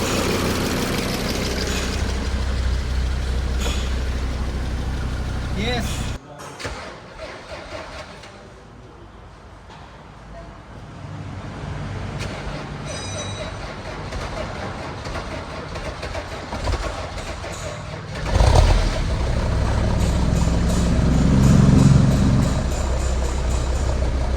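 A Mercedes-Benz W124 idles just after a cold start, a continuous low engine rumble that dips and softens for a few seconds, then settles back and swells slightly louder near the end.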